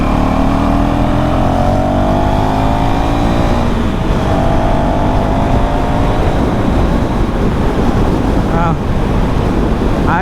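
A 2024 KTM Duke 390 motorcycle accelerates on throttle through city streets, its engine note rising in pitch over heavy, constant wind rush close to the microphone.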